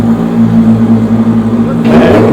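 1,000 hp 2JZ single-turbo Formula D drift cars warming up: a loud, close, steady idling drone with a strong tonal hum, then a brief louder burst of noise near the end.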